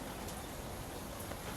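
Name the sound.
wind and rain on a patio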